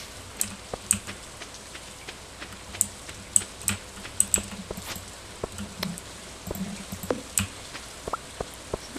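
Rain falling in the farming video game Stardew Valley, a soft hiss of drizzle with scattered light taps and clicks, fairly quiet and alone without talk.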